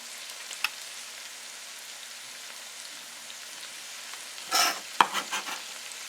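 Onions cook in a pan for French onion soup under a soft, steady sizzle, broken by a sharp tap and a few scraping, clattering stirs of a utensil toward the end.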